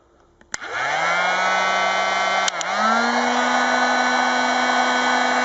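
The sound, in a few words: heat gun blowing hot air on circuit board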